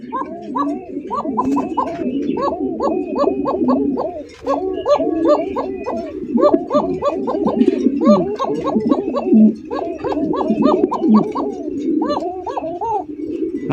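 Fancy pigeons in a Bangladeshi pigeon market coo in repeated throaty rolling phrases, several birds overlapping close by with a steady rhythm, while someone talks over them.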